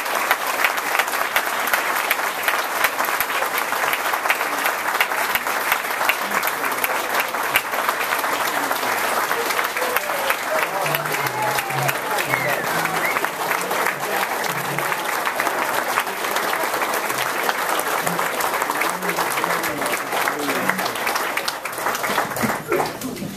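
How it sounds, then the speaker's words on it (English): Sustained applause from an audience at a yacht club's 50th anniversary celebration, dense, steady clapping filling the whole stretch with faint voices mixed in. "So I'd like everyone to give them a big round of applause."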